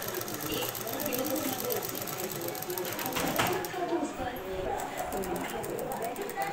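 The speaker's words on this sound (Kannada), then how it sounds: "ಮೇಲ್ಗಡೆ ಕಿನಾರಿ ಸ್ಟಿಚ್ ಮಾಡ್ತಾಯಿದ್ದೀನಿ." Sewing machine stitching a lace border onto a blouse, a continuous fast mechanical whir with dense rhythmic needle ticking that runs throughout, with speech over it.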